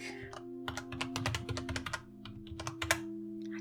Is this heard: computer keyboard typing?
yes